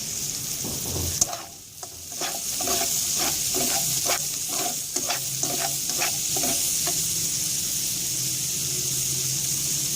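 Peas stirred and frying in a hot pan for egg fried rice, a steady sizzle with a series of rhythmic scraping stir strokes, close and alone.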